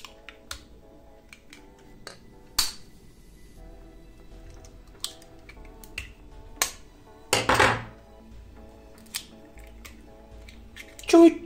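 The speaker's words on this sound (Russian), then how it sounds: "Добавляем 3 яйца." A few sharp cracks and taps of three eggs broken against a bowl for a banana cake batter, spaced apart with quiet gaps and a brief clatter near the end.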